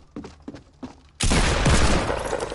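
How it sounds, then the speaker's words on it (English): Fortnite gunfire: three or four spaced single shots pop at moderate volume, then a loud sustained barrage of rapid shots erupts and rattles on without pause. "I shot this dude in the chest"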